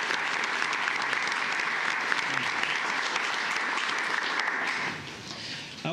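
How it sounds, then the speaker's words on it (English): An audience at a county commissioners court meeting gives a sustained round of applause, thick steady clapping that fades near the end before a final few claps. "Let's give a big round of applause for Lee for"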